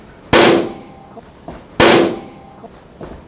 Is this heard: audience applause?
no